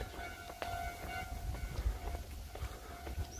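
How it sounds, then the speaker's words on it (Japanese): A railroad crossing warning bell rings steadily at moderate volume from some distance, its tonal clang mixed with low traffic rumble on a residential street in Gakuenmae, Nara. "踏切の音ちょっと離れたら小さくなっていくんやな。"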